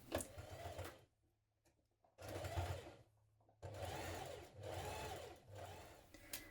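A sewing machine runs in four separate bursts while edge stitching the outer edge of dungarees, each a close, steady whirring run, divided by brief quiet pauses.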